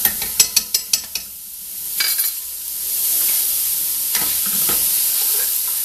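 Meat frying in sesame oil in a pot for Korean radish soup (moogook): a few sharp stirring clicks at first, then a steady, close hissing sizzle.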